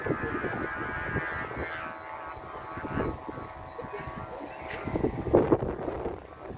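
Strong gusts from Typhoon Yagi buffet the microphone during kite flying outdoors, a rough blustery roar with surges, under occasional talk.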